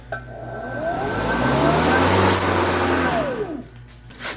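Ryobi 40V cordless bladed tool running on a 7.5Ah battery, its motor whirring up to a steady loud drone, holding for about three seconds, then winding down with a falling pitch.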